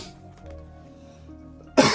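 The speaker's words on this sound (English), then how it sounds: "Oh man, I'm sorry for the cough," A single sharp, loud cough bursts out near the end after a quiet stretch of faint room tone.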